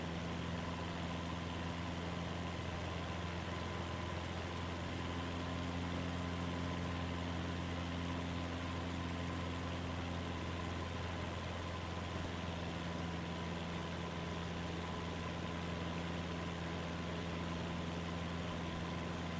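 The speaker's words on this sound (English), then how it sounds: "we've got this engine pegged out" An aircraft engine runs at full power in Microsoft Flight Simulator 2024, making a steady, unbroken drone that holds at an even level throughout with no talk.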